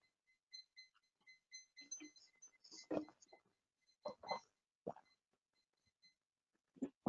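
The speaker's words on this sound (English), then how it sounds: "I needed to unplug that beeping" A device emits bright electronic beeps, short repeated tonal chirps in quick clusters with some rustling handling noises, fairly faint and close, before the beeping stops.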